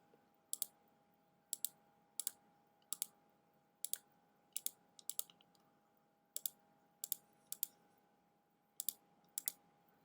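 Computer mouse clicks selecting points one by one while cutting out a subject in Photoshop, a quiet close series of crisp clicks at a fairly even rhythm, some in quick pairs, with no talk.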